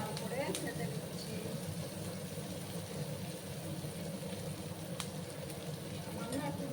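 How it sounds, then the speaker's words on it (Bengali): Onions frying in a pan for a Bengali dahi katla dish, a steady low sizzle and crackle with a few faint clinks, continuous throughout. "আমি পেঁয়াজগুলোকে একটু লাল করে ভেজে নিচ্ছি"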